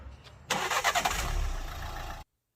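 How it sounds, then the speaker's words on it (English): A 2014 Renault Scenic Dynamique's engine cranks and catches, then settles into a rough, fairly close idle for under two seconds before cutting off abruptly. "I'm going to show you what my engine sounds like"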